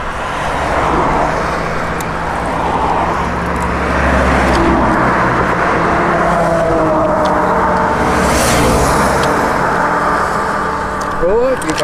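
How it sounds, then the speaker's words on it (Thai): Car engines and passing road traffic in a rural rice-field setting, a steady loud rumble that swells and fades as vehicles go by, with voices faintly mixed in. "มีแต่เสียงรถ"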